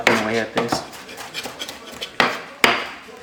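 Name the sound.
knife chopping cilantro for guacamole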